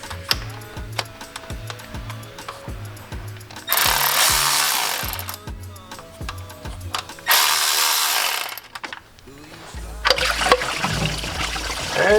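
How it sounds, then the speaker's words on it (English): Coolant gushes out of a BMW E90 M3 engine during a water pump and thermostat job, two loud rushing bursts of draining liquid that stop and start again over background music. "And there goes all the coolant."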